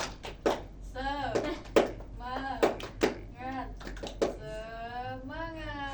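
Students in a classroom teaching session perform a rhythmic spirit clap, with sharp claps at an uneven beat punctuating group voices chanting along in a steady pattern.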